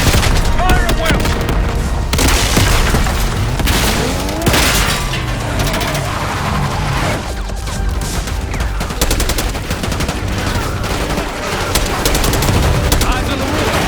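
Dense, continuous automatic gunfire and bursts from a Call of Duty Black Ops 6 firefight at a palace gate, with booming impacts layered throughout, loud and close under intermittent voices.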